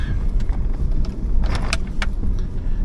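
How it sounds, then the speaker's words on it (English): Pickup truck rolling along a rural road up to a mailbox, a steady close engine and road rumble with a few brief higher clicks and rattles over it. "I have a truck and everything, so I'm driving it up to the mailbox today"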